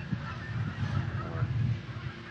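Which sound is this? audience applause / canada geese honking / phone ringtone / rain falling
canada geese honking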